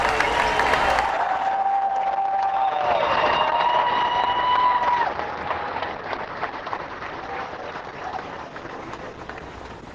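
Crowd applause and cheering at an outdoor Baylor Bears parade celebrating a national championship, a broad wash of clapping with a sustained whistle or horn tone over the first few seconds, continuing steadily before easing slightly.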